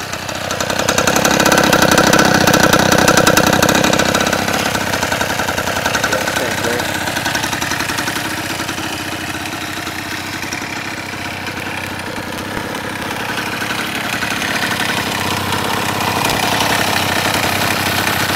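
A custom goped's small engine idles steadily at about 1920 RPM, a loud, continuous mid-pitched buzz with a faint knocking texture that stays even throughout.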